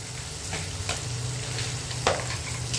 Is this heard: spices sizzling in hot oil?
yes